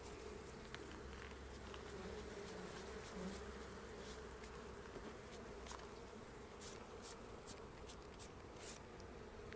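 Honey bees buzzing around an open beehive super during a May honey harvest, a soft continuous hum of many insects with occasional faint ticks and taps, no talking.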